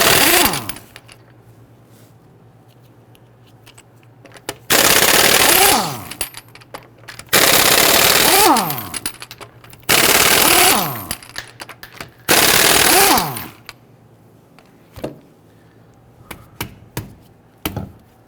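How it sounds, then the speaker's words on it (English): An impact wrench with a 22mm socket loosens the rear wheel lug nuts on a 2011-2023 Dodge Charger 3.6L V6, four loud rapid hammering bursts of about two seconds each with short pauses between them. "Using a 22mm socket, loosen and remove the lug nuts"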